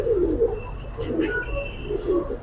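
Giribaz pigeons in a loft coo softly in repeated low rolling phrases, close and continuous, with faint background chatter and a few thin chirps.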